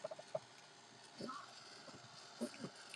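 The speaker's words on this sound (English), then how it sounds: "He's damaged his trachea a little bit, so now he has that kind of like a goose call cough." An old animal with a damaged trachea coughs in short, honking bursts like a goose call, faint and scattered over a few seconds in a quiet garden setting.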